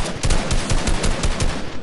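Rapid bursts of automatic gunfire from a squad-based video game fight, a steady stuttering rattle of shots packed close together over the whole moment, loud and with no voices.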